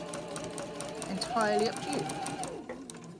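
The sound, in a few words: sewing machine stitching patchwork star block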